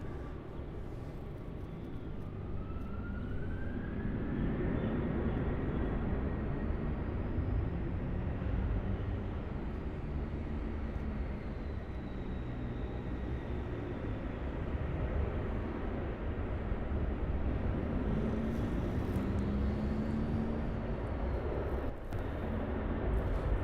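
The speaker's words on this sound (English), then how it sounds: "And now we have the Qantas A330 departure from Melbourne to Sydney" A Qantas Airbus A330-300 departing Melbourne Airport, a broad continuous jet roar with rising whine, heard from a distance and sustained steadily throughout.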